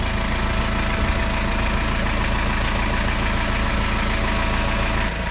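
A Kubota tractor engine idles steadily up close, a continuous low rumble with a faint knocking texture that holds evenly throughout, with no voices.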